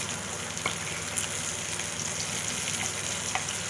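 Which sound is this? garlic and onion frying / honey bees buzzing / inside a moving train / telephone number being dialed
garlic and onion frying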